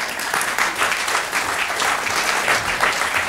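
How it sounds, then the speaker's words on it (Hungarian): Loud, steady applause from a crowd welcoming a woman on stage at a blindfolded card-finding magic show, continuous clapping filling the whole moment without a break. "Kérlek egy hatalmas tapsot a hölgynek"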